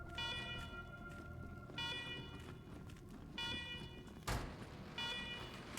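Secure-facility alarms in the video game Wasteland 3 blare in repeating, evenly spaced electronic wails with bright harmonic tones, loud and continuous with brief gaps between pulses.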